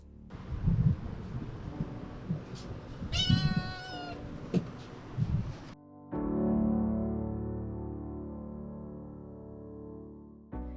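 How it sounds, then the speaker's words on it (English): Tiny newborn kittens, eyes barely open, found abandoned in a marina trash hut, give several thin high meows in the first half, close and fairly loud over rustling. A sustained tonal music-like drone fills the second half. "Someone had tried to toss away 4 little kittens that barely had their eyes open."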